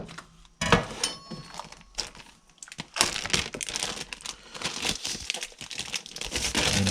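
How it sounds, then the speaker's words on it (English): Frozen custard ice cream base being unwrapped from plastic packaging, giving loud, close crinkling and crackling bursts that grow denser and continue steadily through the second half. "So, just need to take it out of the plastic."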